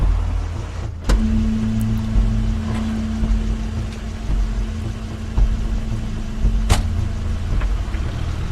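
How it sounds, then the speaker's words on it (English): A car in the video game The Wolf Among Us gives a steady low mechanical hum, with sharp clicks near the start and again toward the end; no one speaks. "That's Crane's car."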